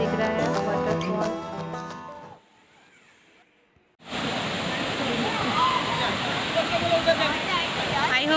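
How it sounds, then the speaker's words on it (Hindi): Krangsuri waterfall in Meghalaya, where swimmers gather, roars with a constant broadband rush of falling water after a stretch of music and a brief near-silent gap. "कितना सुंदर दिख रहा है वाटरफॉल"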